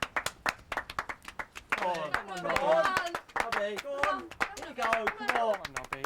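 Spectators clap rhythmically in sharp, separate claps at first, then keep up a loose clapping while someone narrates over it in a lively voice; the claps are close and distinct and continue under the talk.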